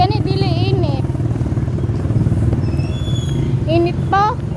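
Motorized tricycle engine in Ormoc, a steady low droning putter running close and loud throughout, with people chatting over it and high squeals cutting in now and then.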